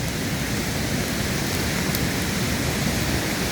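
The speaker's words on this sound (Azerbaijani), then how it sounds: "Yağış dolu qarışıq." Rain mixed with hail falls in a steady, dense hiss of drops striking surfaces outdoors, continuous and fairly loud throughout with no voices.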